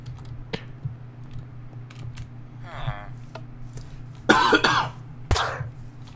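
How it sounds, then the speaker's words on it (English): Close, sharp coughs come in a burst of two or three, then one more a moment later, over a low hum and scattered small clicks, with a brief voice-like sound in between. "That was a cough."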